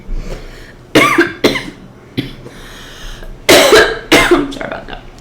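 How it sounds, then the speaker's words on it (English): Coughing after smoking: a series of harsh, loud coughs in uneven bursts with short pauses and some throat clearing between them, recorded close up. "I always cough when I smoke, no matter what."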